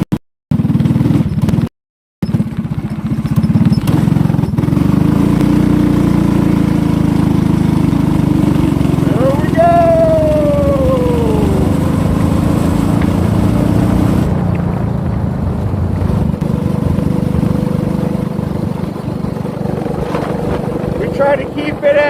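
A go-kart powered by a Predator 212 engine drives past with a steady, loud engine drone throughout, the pitch rising and falling as it speeds up, with someone talking over it.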